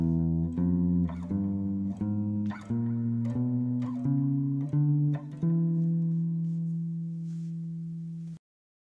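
Diminished scale in its dominant interpretation played as a sequence of sustained tones, roughly eight notes with clear attacks, the final note held and decaying before an abrupt cutoff.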